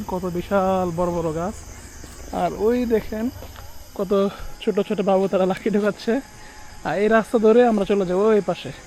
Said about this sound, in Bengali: অনেক অনেক ঝিঝি পোকার শব্দ এখানে আসতেছে।